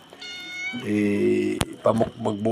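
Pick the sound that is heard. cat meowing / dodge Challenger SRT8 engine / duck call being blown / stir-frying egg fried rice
cat meowing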